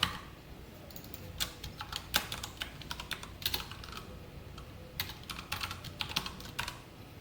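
Steady typing on a computer keyboard while SQL code is written during a MariaDB lesson, with quick irregular key clicks in bursts and short pauses.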